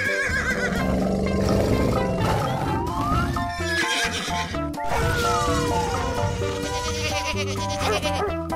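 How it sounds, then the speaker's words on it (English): A cartoon horse neighs loudly in a children's animal painting game, with two clear descending whinnies over bouncy background music and other animal-like sounds. "horse,"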